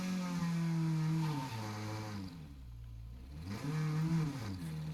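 A car engine in a video game, the Xentari, revs up and down in repeated rising and falling pitches, fairly close and steady, with no talking.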